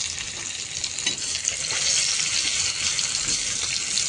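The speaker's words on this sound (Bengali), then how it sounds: "শুকনো মরিচ, জিরা, পেঁয়াজ, রসুন একসাথে করে ভেজে নিচ্ছি" Dried chillies, cumin, onion and garlic fry together in hot oil, giving a steady, close hiss and crackle that continues throughout without pause.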